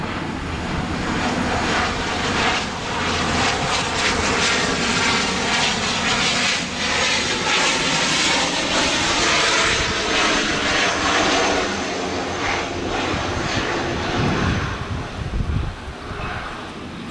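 A Cessna Citation Excel C56X mid-size business jet flies over, its loud, broad engine roar holding steady throughout with some wind noise and a slight swell near the end.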